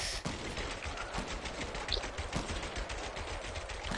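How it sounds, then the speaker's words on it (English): Rapid gunfire in the Fortnite video game, a dense run of quick automatic shots and single cracks repeating throughout, moderately loud and with no talking. "There's gunshots."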